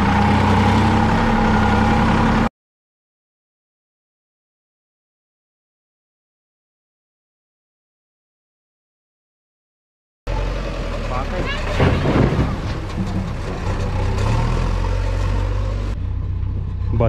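A tractor engine runs in a village, a steady low rumble with mechanical clatter, cut off by a long silent gap before returning louder and rougher.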